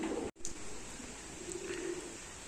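Pigeons coo softly at a loft, low throaty calls in a quiet room with faint background noise and a brief dropout early on.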